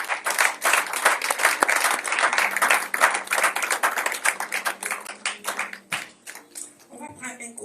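A church congregation claps and applauds the Lord during a French-language Sunday service, dense steady clapping for about six seconds before it thins out.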